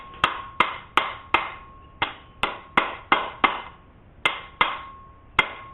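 Hammer tapping on a rear upper inner suspension bushing part of a 1989–97 Ford Thunderbird: about fifteen sharp metallic taps in an uneven rhythm, each ringing briefly, close and clear with no talking.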